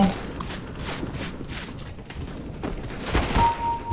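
Rapid gunfire from the first-person shooter Valorant crackles in bursts throughout, with sharp shots clustering near the end over a busy game backdrop.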